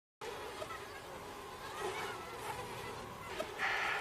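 Wild mosquitoes give a faint, steady high-pitched whine that runs almost continuously, thin and close, with no talk over it.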